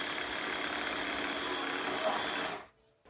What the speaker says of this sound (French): On n'entend que le moteur de brosse,